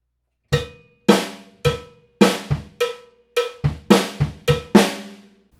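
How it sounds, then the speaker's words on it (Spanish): Cowbell pattern, a syncopated variation mixing single hits and quick doubles, each clank ringing briefly, close and prominent with no voices. "El tempo de este groove lo lleva al cencerro, y se ve así."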